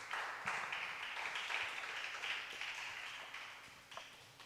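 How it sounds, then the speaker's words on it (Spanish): Faint, steady applause from a group, distant and diffuse, tapering slightly toward the end. "Dale un aplauso, por favor, al Señor."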